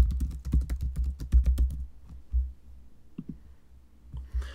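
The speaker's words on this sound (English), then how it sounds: "And type in the name you want." Typing a name on a computer keyboard: a quick run of key clicks in the first couple of seconds, then a few scattered taps at moderate loudness with no talk.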